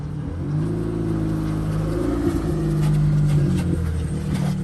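A pickup truck hauling a gooseneck trailer labors uphill, its engine a steady low drone with a rising hum as it pulls, close and continuous with no talk.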